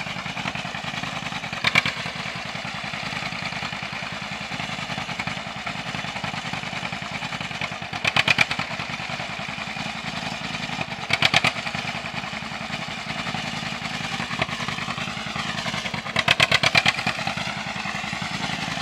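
An old John Deere B tractor with a Klein Boy straight pipe runs steadily up close, pulling a sickle mower through hay. Its low, even engine drone continues throughout, with a few brief clattering bursts.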